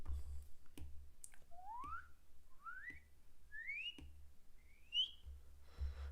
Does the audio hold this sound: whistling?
yes